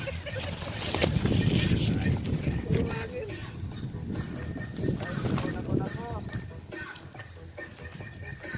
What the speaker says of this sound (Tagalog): Ang lakas ng hangin mga guys.